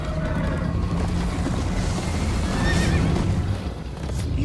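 In Minecraft: Story Mode, a horse whinnies loudly over the constant drumming of galloping hooves, all close and busy with a rushing background.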